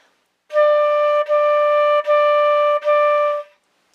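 Four tongued quarter notes played on a flute, a clear steady tone sounding loud and close, each note separated by a brief articulated break, with no talking.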